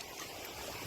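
Steady broadband rush of river water flowing on a hiking route between Whitewater and Big Bear Lake, close and continuous with no break across the short stretch.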